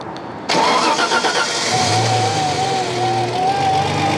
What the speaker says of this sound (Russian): Итак, двигатель заведен